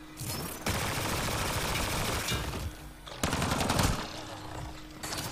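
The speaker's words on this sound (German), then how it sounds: "Die Scharfschützengewehr fetzt natürlich böse rein." Gunfire in the video game Mass Effect Andromeda: heavy, loud shots in two dense bursts with crackling reverberant tails, broken by a brief lull.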